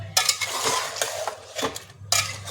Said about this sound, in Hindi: ये मसाला जब भूनेगा तो इसको थोड़ा सा चला लेंगे, मिक्स कर लेंगे मतलब